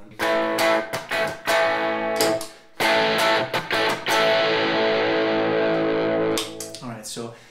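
Overdriven electric guitar played through a Fender '65 Deluxe Reverb reissue tube amp, choppy distorted chords with short gaps, then a long sustained ringing chord before it cuts off.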